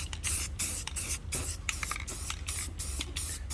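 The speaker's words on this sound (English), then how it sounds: "So we'll spray it a little heavy" 3M underbody coating being sprayed heavily onto the underside and seams of a car, a loud steady hiss in repeated bursts with brief pauses between passes, close up and without talk.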